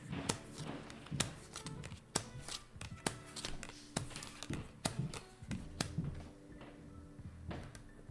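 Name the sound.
shuffling a deck of playing cards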